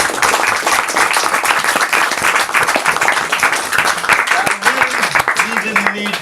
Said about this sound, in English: You didn't need clapping,